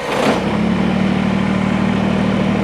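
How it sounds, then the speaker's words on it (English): A Kubota BX compact tractor engine catches with a brief burst and then settles into a steady, loud, close idle drone. "Now you want to start your tractor."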